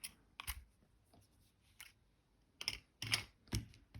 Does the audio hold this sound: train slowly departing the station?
no